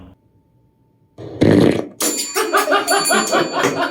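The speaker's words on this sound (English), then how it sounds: "A fart." A fart sound played in a sound guessing game: a loud, sudden, low raspy burst, then a longer sputtering, bubbly run of pulses, heard on its own after a near-silent start.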